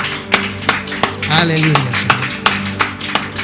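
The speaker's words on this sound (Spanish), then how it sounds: "Vamos a darle palmas a nuestro Dios con todo nuestro corazón." A church congregation claps in steady rhythm during a Spanish-language worship service, the sharp claps repeating evenly and loudly while a voice speaks over them.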